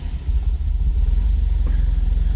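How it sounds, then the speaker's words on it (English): A 1974 Volvo 1800 ES sport wagon with Bosch fuel injection fires up quickly. After a brief silence its engine catches and settles into a steady, pulsing low idle, close and fairly loud. "notice how quick this car is going to pop off because of that fuel injection system."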